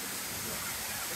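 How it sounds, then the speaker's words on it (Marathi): The Sendang Gile waterfall on Lombok, Indonesia, made of several falls together, roars as a dense, steady rush of water with no breaks. "समोर धबधबा आहे."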